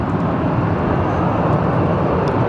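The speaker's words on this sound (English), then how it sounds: "Here comes that Beechcraft 400 XP." A Beechcraft 400XP business jet departing Phoenix Sky Harbor Airport gives a loud, close, sustained broadband engine roar that holds steady for the whole moment, with no talking.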